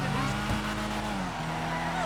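A Karin Everon RS in GTA V Online, tires squealing as it understeers through a turn, a steady loud engine drone under the scrub with a brief thump early on.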